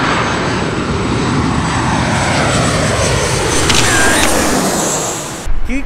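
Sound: airplane passing low overhead

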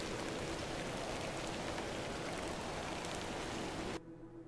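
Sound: rain in video game The Excavation of Hob's Barrow

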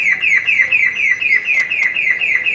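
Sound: car alarm sounding

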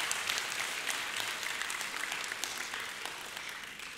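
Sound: audience round of applause

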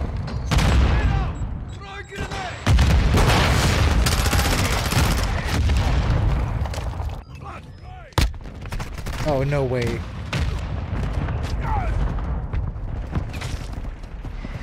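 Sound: explosions from the sky in the video game Call of Duty Modern Warfare II

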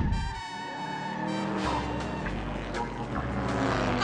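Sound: race car speeding on track, cartoon

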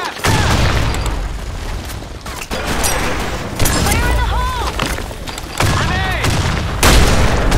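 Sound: grenade explosion in a video game

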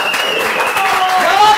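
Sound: audience applause

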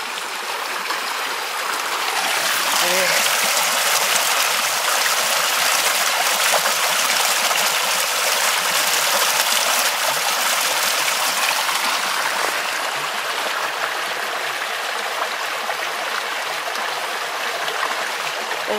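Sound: stream of water flowing near a bridge

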